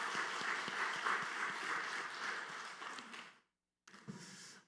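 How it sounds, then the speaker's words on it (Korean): A church congregation at a Sunday worship service applauds the choir and worship team, a dense, sustained wash of many hands clapping that breaks off abruptly for a moment, then resumes. "우리 할렐루야 찬양대 주일 경배 찬양팀 축복하고 격려하는 박수 한 번 더 하겠습니다"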